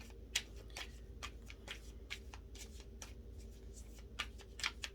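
Tarot cards being shuffled by hand during a reading, a steady series of crisp riffling snaps and soft slaps, close and fairly quiet, with no talking.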